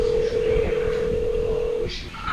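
A phone emits a steady, loud dialing tone for almost two seconds, then a couple of brief higher beeps follow, heard outdoors on Tinian in the Northern Mariana Islands.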